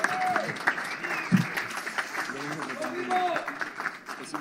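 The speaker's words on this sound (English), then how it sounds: "a round of applause for a fantastic performance from Dmitry Bivol this evening" An audience applauds at a post-fight boxing press conference for WBA light heavyweight champion Dmitry Bivol. Steady clapping from a room of people continues under someone speaking over a microphone.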